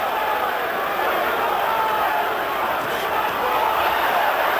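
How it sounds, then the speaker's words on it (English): A boxing crowd roars in support of Evander Holyfield during his fight with Michael Moorer, a dense, steady wall of cheering and shouting from a large arena audience that holds loud and unbroken throughout. "Crowd supporting Holyfield as never before."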